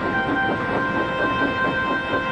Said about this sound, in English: Percy waited on the siding until Henry had steamed by.